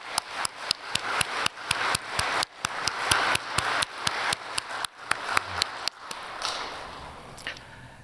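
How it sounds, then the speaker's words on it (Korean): A church congregation claps together in a steady unison rhythm, about two sharp claps per second, loud and close, before breaking into looser scattered applause that fades. "감사와 영광의 박수를 우리 같이 올려드립시다"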